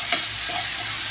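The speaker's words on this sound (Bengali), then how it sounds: "একটু চাট মশলা মিশিয়ে দিলাম এর সঙ্গে" Popcorn being stirred with chaat masala, a brief dry rustling scrape with a couple of soft scratchy strokes, close and fairly quiet, with no one talking.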